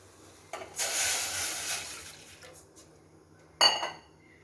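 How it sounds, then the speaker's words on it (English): Half a glass of water poured into a cooking pan while making vazhai poo parupu usli, a banana-flower and lentil dish: a soft, rushing pour lasting over a second, then a single clink of a vessel afterward. "Now I am going to add half glass of water."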